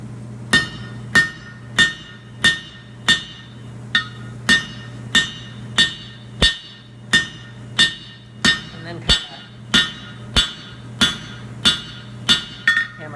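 Steady hammer strikes on hot metal against an anvil ring out about once a second, each a bright clanging hit with a short ringing tail, close by and alone, while forging blacksmith tongs.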